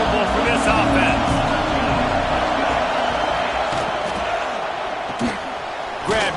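A stadium crowd at a Michigan at Ohio State football game keeps up a loud, continuous roar, with a voice talking over the din and a few thuds near the end.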